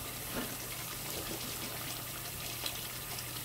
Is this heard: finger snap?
no